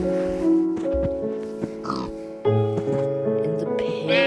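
Pigs oink and grunt in the video game Minecraft Earth, a few short cartoonish snorts close up, with a person talking over them at times.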